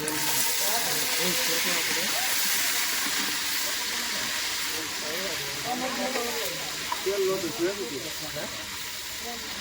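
Cordia fruit (gunda) frying in hot oil for gunda kadhi, giving a steady broad hiss and sizzle that runs throughout with bubbling crackle, while a voice talks over it.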